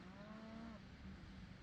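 Cattle moo in a long, low, drawn-out call lasting about a second, then trail off into steady outdoor rumble, heard alone with no talk.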